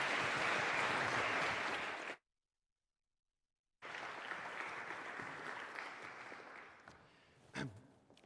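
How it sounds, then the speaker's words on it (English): A conference audience claps steadily for an alumni panel, a dense wash of applause that breaks off into silence before resuming and slowly thinning out. "a round of applause for our alumni panel"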